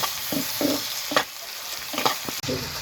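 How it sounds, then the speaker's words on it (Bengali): Bottle gourd peel frying on a griddle with turmeric powder and a little salt, with repeated stirring scrapes and soft sizzling in short bursts, no talking. "হলুদ গুঁড়া সামান্য নুন এবার এটা সুন্দর মতো ভাজে নেব"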